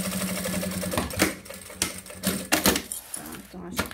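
A sewing machine stitches synthetic leather for a bag lining in short bursts of rapid mechanical chatter, close by, broken by pauses and handling clicks, with a voice talking over parts of it.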